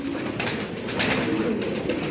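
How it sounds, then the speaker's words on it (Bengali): A pair of pigeons coo softly and repeatedly at close range, low throaty calls rolling over a steady background hum. "খুবই চমৎকার এক জোড়া কবুতর"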